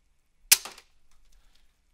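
A Retaliator / Recon MK II hybrid dart blaster fires a full-length stock foam dart with one sharp, close crack, followed by a short rattle and faint scattered ticks as the sound dies away.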